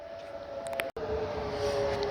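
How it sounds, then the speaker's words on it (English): Outdoor warning sirens sound during the monthly test in Livonia, Michigan, a steady distant wail holding one tone, broken by a brief dropout. "Alright, so sirens are about to go off."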